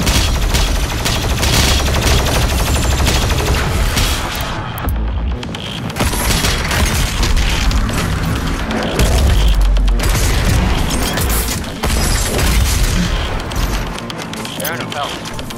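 BFG 10,000 on Mars firing in DOOM Eternal, loud sustained booming blasts and gunfire-like bursts under a dense game soundtrack, with a voice speaking over the din.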